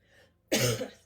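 A single sharp cough, close and fairly loud, after a brief moment of quiet.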